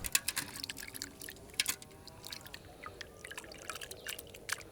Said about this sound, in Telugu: నేనైతే మొత్తం నరం తీసేసి శుభ్రంగా కడుక్కుంటున్నాను